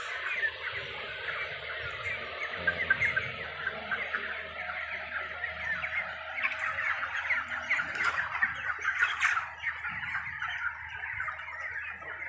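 Chickens on a small poultry farm, a flock of broilers being harvested, produce a dense, continuous clucking and chatter at moderate loudness, steady throughout with occasional brief louder calls and some handling noise.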